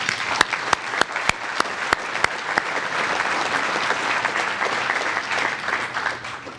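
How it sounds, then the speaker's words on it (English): A lecture audience at a medical talk bursts into a round of applause, starting with a few sharp, separate claps that quickly fill into a dense, steady wash of clapping from many people. "I think we really deserve to give him a round of applause."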